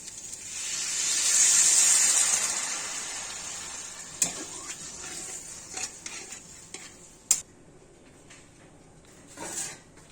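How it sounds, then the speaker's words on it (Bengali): Water splashed into a pan of frying potatoes, onions and spices, giving a loud hissing sizzle that swells over the first couple of seconds and then settles into a quieter simmer, with a few sharp utensil clinks and stirring scrapes. "এবার পরিমাণ মতো জল দিয়ে দিব।"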